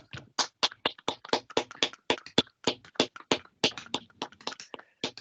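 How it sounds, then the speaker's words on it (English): Participants in an online board meeting clap into their microphones, giving a sparse, uneven patter of separate claps at varied loudness from a few people. "So we can all give everyone a round of applause."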